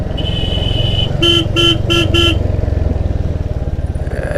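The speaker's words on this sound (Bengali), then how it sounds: "এখানে হর্ন দিতে হবে কারণ এটা হচ্ছে ব্লাইন্ড টার্নিং জোন" A motorcycle rider at a blind turn on a hill road sounds four quick, loud horn toots over the steady close rumble of the engine.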